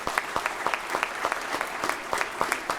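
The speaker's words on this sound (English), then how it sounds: "That deserves a round of applause" Audience applause at a State of the City program honoring a fire official retiring after 38 years, a dense, even wash of clapping with sharp individual claps standing out throughout.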